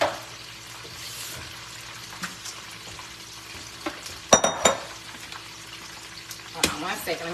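Chicken wings frying in a pan give a low, steady sizzle with a few brief louder clatters and stirs near the end; no one speaks over it.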